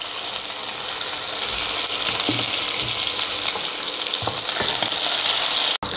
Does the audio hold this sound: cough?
no